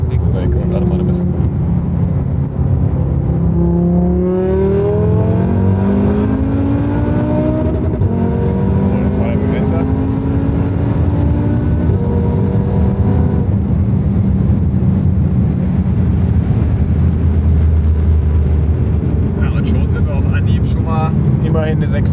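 A five-cylinder car accelerates at full throttle on a test drive, its engine note climbing steadily in pitch through the revs, heard loud from inside the cabin with someone talking over it.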